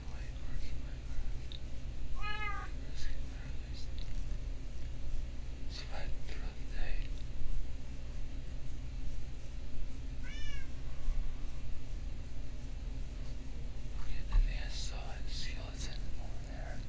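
A pet cat meows a few times, short rising calls spread apart over a noisy background, with soft voices nearby during a Minecraft session.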